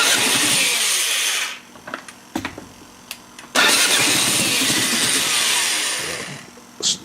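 A Mini Hog 70 small engine, its starter powered by a weak 6-volt battery, cranks and catches, then runs loudly in rough bursts with brief dips and restarts, settling into a sustained raspy running note.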